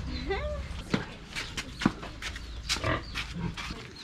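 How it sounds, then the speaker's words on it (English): Pigs on a farm in Cambodia grunt in short, irregular bursts, with a high squeal early on, and nearby people talk over them. "Got some pigs in here."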